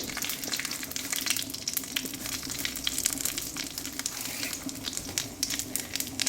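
Dry red chillies and five-spice seeds (panch phoron) sputter and crackle in hot oil, a steady close sizzle with dense popping throughout.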